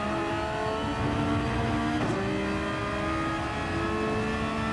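Race cars accelerating in a racing game, with a GTR among them: steady engine drone rising and shifting through gears, a brief sharp transient near the middle, no talk.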